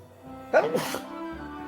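A single sharp sneeze bursts out during a quiet lull in an online tabletop role-playing game session, close to the microphone and brief, with faint background hum around it.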